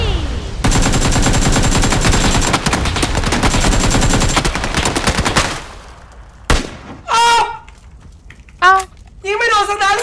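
Rapid bursts of loud automatic gunfire in a shooter video game, nearly continuous for about five seconds, then stopping, followed by short cartoonish electronic effect sounds.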